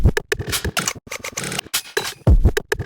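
A reversed and chopped drum loop: swelling reversed hits and choppy, stuttering fragments with deep low thumps and scraping textures, in an uneven, syncopated pattern, played alone.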